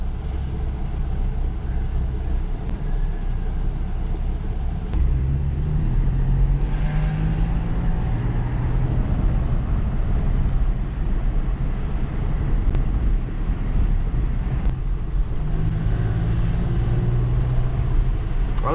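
A BMW E60 with a stock M54B30 inline-six runs steadily at close range, its low rumble swelling and easing as the revs rise and fall, with wind buffeting the microphone throughout.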